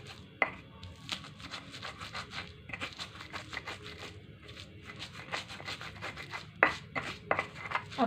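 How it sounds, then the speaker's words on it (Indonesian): Garlic and shallots pounded or ground by hand for Sundanese potato perkedel, a steady run of close, crisp grinding and chopping strikes with a few sharper knocks, alone without talk. "Ini kita haluskan juga bawang putih,"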